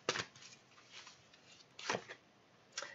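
Oracle cards from the Sacred Traveler deck being handled and drawn, giving three short papery shuffling bursts with quiet pauses between them.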